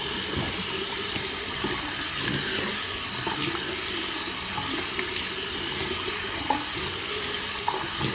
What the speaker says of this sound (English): gonna wash your face with lukewarm water